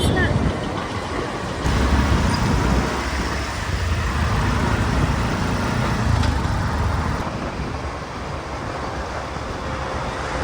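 Steady road traffic on the Pune–Jejuri road near the foot of Dive Ghat, where bridge work is under way, forming a continuous loud rumble with passing vehicles and no speech.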